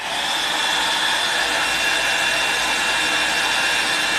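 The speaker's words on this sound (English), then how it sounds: "I have my hair dryer on high heat" A steady, loud blowing whir with a high airy hiss runs without a break, a hair dryer on high heat running at full power close by.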